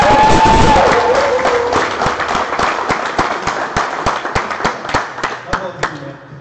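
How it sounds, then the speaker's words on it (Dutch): Audience applause with cheering from a crowd at a Dutch esports Eredivisie stream event, dense clapping that gives way to sharper scattered claps as it thins out, with a voice over it at the start. "Geef hem nog een keer een groot applaus."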